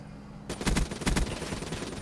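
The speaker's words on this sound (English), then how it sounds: "that guy's got a drac on and he's just rapid firing it" Rapid bursts of gunfire from a Drakon sniper rifle in Black Ops 3, a quick run of loud, closely spaced shots over steady game background noise.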